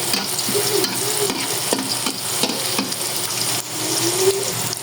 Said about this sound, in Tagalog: Unahin natin igisa yung bawang mga kalaboy.